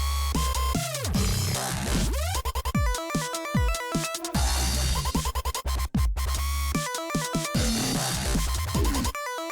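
A dubstep track built in Ableton plays, with heavy bass, choppy synth stabs and abrupt rhythmic cuts and gaps, loud and dense with no talking.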